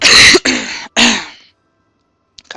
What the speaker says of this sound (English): Cough, cough, cough.